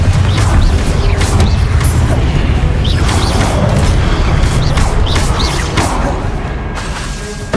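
Fiery blasts from the Confringo spell in the Hogwarts Legacy video game, a loud, dense stretch of repeated booming impacts and crackling bursts with whooshes, continuous over the whole span.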